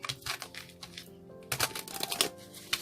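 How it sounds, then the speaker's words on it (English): Deck of oracle or tarot cards being shuffled by hand during a card reading, a close, continuous rustling and riffling that surges in denser bursts partway through, with no talking. "One more shuffle."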